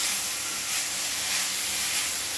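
Broccoli, mushrooms and other vegetables with salt cooking in a pan for a salad, making a steady, even hiss and sizzle that continues without a break.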